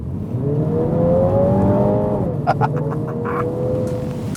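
A MINI John Cooper Works hatchback with 320 Nm of torque accelerates hard, its engine note rising steadily in pitch and holding loud and close for several seconds, with a brief gear-change dip and continued pull.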